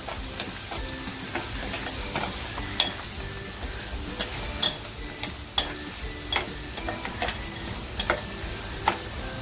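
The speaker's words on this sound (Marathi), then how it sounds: "घरगुती मसाला आणि हळद ते आपल्याला तेलात छान असं फ्राय करून घ्यायचे" Homemade masala and turmeric fry in oil for a pomfret curry with a continuous close sizzle, punctuated by regular sharp clicks and taps of a spoon stirring in the pan.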